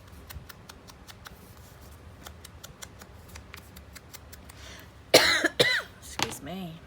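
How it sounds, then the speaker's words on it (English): A person gives a short burst of dry coughs, loud and close, after a stretch of quiet crisp snipping from scissors at a craft table. "It's not anything, it's just a dry, annoying cough, and I just cough all the time."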